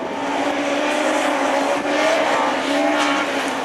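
Super 1600 rallycross cars with sequential gearboxes race hard at a competition, their engines a dense, loud, continuous buzz of several motors revving together, heard from trackside with no clear voices.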